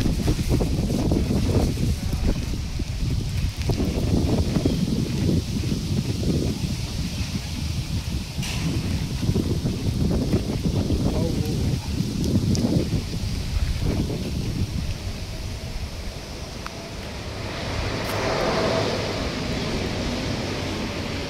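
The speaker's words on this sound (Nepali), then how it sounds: "एकदमै मौसम चिसो मौसम साथीहरू, एकदम हावा लागेको छ।" Strong gusty wind in cold weather in Malaysia buffeting the microphone, roaring and rumbling in waves, easing briefly before picking up again.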